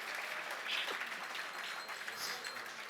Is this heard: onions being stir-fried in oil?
no